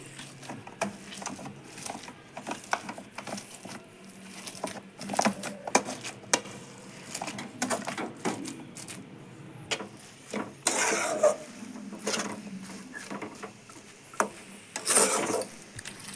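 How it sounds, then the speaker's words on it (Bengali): Cooked potatoes and chickpeas are mashed with spices in a pan for a banana flower dish, giving repeated soft rubbing, scraping and pressing thuds against the pan, irregular and moderately close, with no talking. "সবজি মশলা 5 মিনিট কষার পর এইভাবে পিষে নিতে হবে, যাতে আলু ছোলাগুলো একসঙ্গে মিশে যায় ভালোভাবে"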